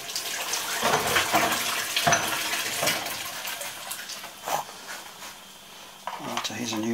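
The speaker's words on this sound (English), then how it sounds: "So I'll soak them in hot water" Blackened metal toolholders being washed in hot water in a workshop: continuous running and splashing water with irregular sloshes and clinks, close by.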